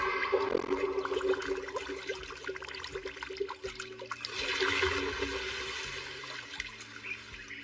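Water flowing, summoned by a magic spell in an anime, rushes and gushes steadily throughout, swelling briefly near the middle, with a low background drone beneath.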